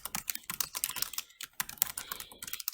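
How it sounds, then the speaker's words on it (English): Fingers type quickly on a computer keyboard up close, with a steady patter of light key clicks and a brief pause midway. "So you simply type your lesson or your instructions."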